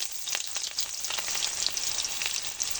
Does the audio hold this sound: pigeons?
no